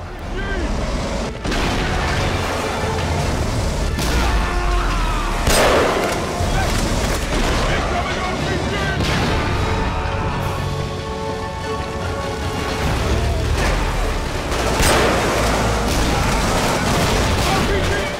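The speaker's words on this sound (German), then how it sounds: "Der Explosionsradius von den Raketen ist auch heftig." Rocket explosions and gunfire from the shooter game Killzone 2: dense, continuous battle noise with booms and rapid shots layered throughout, loud and unbroken.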